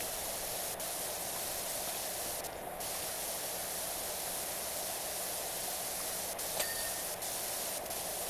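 A pressure washer sprays steadily in the PowerWash Simulator 2 video game, a continuous broad hiss with a few faint clicks and a brief tone near the end.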